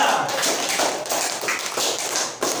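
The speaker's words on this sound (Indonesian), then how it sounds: "Ya, tepuk tangan untuk kelompok 3." A classroom of students applauds a group's sculpture presentation with quick, dense, tapping claps that continue steadily and fairly close, broken by brief pauses.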